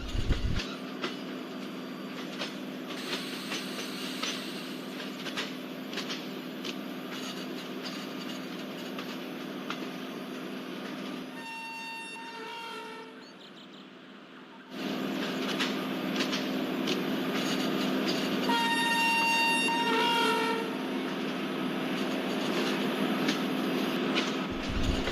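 A heavy Indian express train in a train simulator game, accelerating while climbing a gradient, with a steady loud engine drone and rolling rumble. A quieter break falls in the middle, and tonal signal or horn beeps sound around it before the drone returns.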